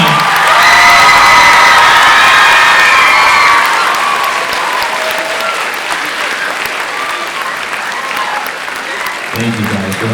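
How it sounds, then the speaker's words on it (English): Loud audience applause with cheers and whoops fills a school spring band concert, strongest at first and then easing into steadier, softer clapping and crowd noise; a brief voice is heard near the end. "you can give a better round of applause than that"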